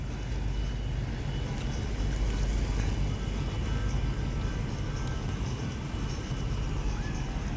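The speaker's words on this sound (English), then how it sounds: "It's not a cruiser, it's a ferry" A ferry passes at sea, heard as a faint, steady low engine rumble and broad wash of water noise that holds evenly for several seconds from a distance.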